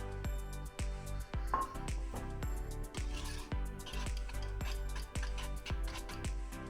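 Eggs and milk are beaten together in a bowl for a pudding, with quick, regular clinking strokes of the utensil against the bowl, close and fairly quiet.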